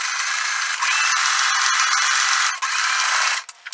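A sewing machine stitches a top-stitched quilt block with fusible, a close, steady high whirring hum that stops briefly near the end and then starts and stops in short bursts.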